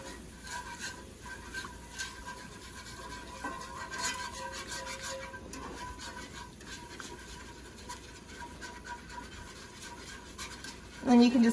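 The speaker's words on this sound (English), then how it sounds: "Then you can just keep whisking and adding more milk in and whisking and adding more milk in until it's nice and thick and bubbly" Whisk scraping and rasping steadily in a pan as milk is worked into thick, bubbly sausage gravy, a continuous close scratching texture with a louder burst at the end.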